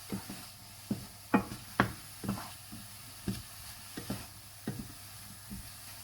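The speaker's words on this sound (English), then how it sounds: "Mix these mushrooms up." Mushrooms sizzle softly in a pan as they are stirred, with a quiet frying hiss and a series of regular scraping, knocking utensil strokes about every half second.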